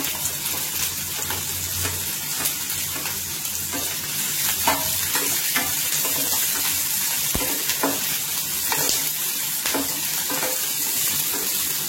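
Capsicum and shredded cabbage sauté in a hot pan for hotel-style cabbage Manchurian, giving a steady close sizzle with scattered clicks of stirring throughout, no voices.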